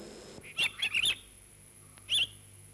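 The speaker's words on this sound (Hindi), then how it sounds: "आप हमें भी सिखाना चिड़ियों की बोली। ये क्या बोलती हैं, कैसे बोलती हैं?" Small birds chirp in a forest: a quick cluster of bright tweets, a pause, then one more short call, all fairly faint with no talking.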